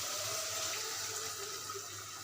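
Broth is poured into chicken curry cooking in a pan, a faint, steady watery pouring and splashing sound.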